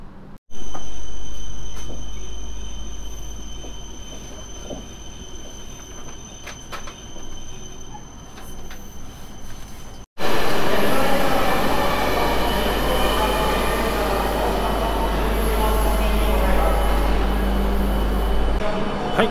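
Interior of an E5 series Tohoku Shinkansen Hayabusa train riding between Tokyo and Sendai: a steady, loud cabin rumble and rushing noise, quieter at first, then a sharp cut to a louder roar with rattling and faint wheel squeal.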